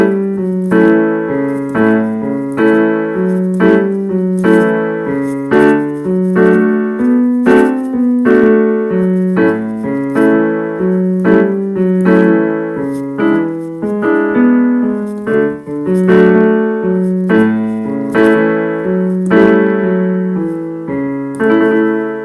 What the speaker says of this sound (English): Here's a little bit of our 12-bar blues.